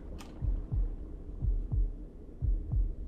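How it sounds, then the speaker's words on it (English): A thumping heartbeat from the survival game Bermuda Lost Survival pulses in paired low beats, a steady lub-dub rhythm repeating about four times, clear and close with no talk. "wait, what's the heartbeat?"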